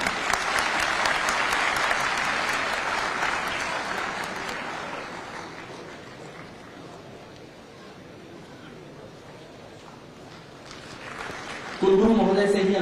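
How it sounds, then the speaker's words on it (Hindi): Strong audience applause at a statue unveiling ceremony with dignitaries, loud at first and then tapering off, before a voice on a public address system starts speaking. "कृपया तालियां बजती रहें।"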